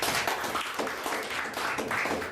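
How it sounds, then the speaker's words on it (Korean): A church congregation applauds in warm encouragement. Many hands clap in a continuous, moderately loud burst that rises and falls in small waves, with no clear speech over it. "지난주에 수고 많으신 분들 한번 생각하시면서 박수를 한번 격려하겠습니다"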